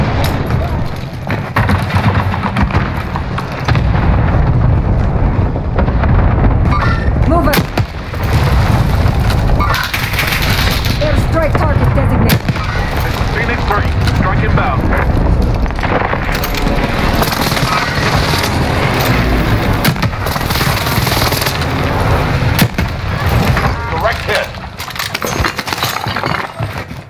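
Gunfire and explosions in a Warzone Rebirth Resurgence quad match: dense, loud, nearly continuous bursts of shots, clinks and booming blasts across the whole stretch, with some voices faintly under the din.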